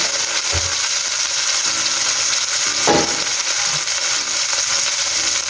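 Steady, dense sizzling of whole tilapia frying in hot oil in a pan, close and continuous, with a brief clatter partway through and no voices.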